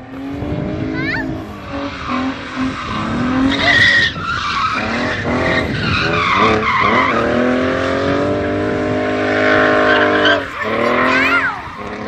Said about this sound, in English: Going to drift it around this corner.